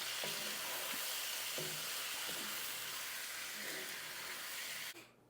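Onions fry in a pan with a steady, close sizzle, broken by a few soft scraping stirs, before the hiss drops away abruptly near the end.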